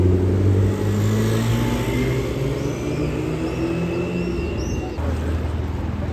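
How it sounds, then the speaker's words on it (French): A Porsche 918 Spyder supercar drives past at the Top Marques Monaco 2023 show. A loud, close engine note rises and shifts as it passes, then a lower rumble continues, with faint voices in the background. "918 Spider qui passe là."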